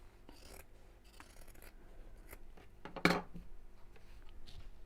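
Scissors snip through fabric to cut a curved round shape while a bowling bag is sewn, with quiet scattered slicing and rubbing sounds and one sharper louder snip near the end.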